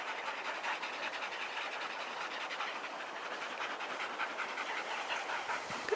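Several sled dogs pant rapidly and steadily before a run with a cart that has a dirt brake set, a dense continuous breathy hiss with no talk.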